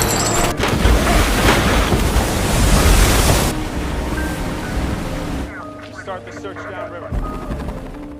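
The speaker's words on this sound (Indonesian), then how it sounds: "Swigger pun memutuskan untuk memundurkan mobilnya dan menenggelamkannya ke sungai." Rushing water and heavy surf-like noise fill a movie scene as a car sinks backward into a river, loud and continuous, then thinning into quieter bubbling and gurgles with a faint tone.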